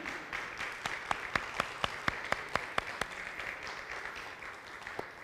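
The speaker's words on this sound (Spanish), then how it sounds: "¿Por qué no das un aplauso al Señor por lo que Dios hace?" Scattered hand claps from a church congregation at a Spanish-language service, about a dozen distinct claps spaced across a few seconds over a quiet, murmuring room, moderately near and not very loud.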